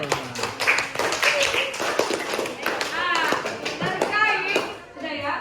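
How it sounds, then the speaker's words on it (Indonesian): Students in a classroom clap together in quick, fairly light bursts, mixed with children's chatter and a teacher's voice talking over them. "Tepuk tangan dulu untuk kalian"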